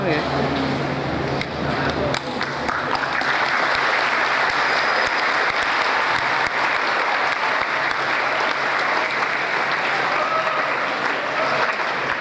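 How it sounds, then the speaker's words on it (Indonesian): Audience applause fills a youth day church ceremony at a parish in Metro, Sumatra: dense, sustained clapping from a large crowd, loud and continuous the whole time. "Tepuk tangan ya."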